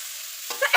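Beaten egg mixture hits hot oil and is stirred, a steady broadband sizzle rising into a couple of sharper spattering bursts as the spoon moves through the pan, close and fairly loud.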